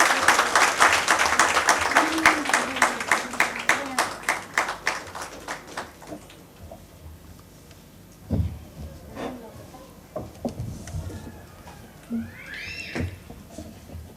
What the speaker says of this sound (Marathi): टाळ्यांचा आवाज वाढला तरी चालणार आहे.